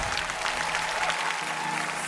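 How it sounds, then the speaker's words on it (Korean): Audience at a live music show applauding to welcome the performers, a dense, steady wash of clapping that continues without a break for the whole moment. "큰 박수로 맞아주십시오."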